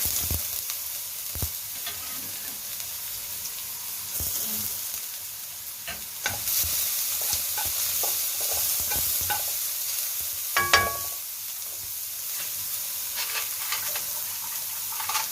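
Chili and ginger stir-fried in a hot pan make an up-close sizzling hiss, with scattered clicks and scrapes as the utensil strikes the pan and a brief louder burst of spatter partway through.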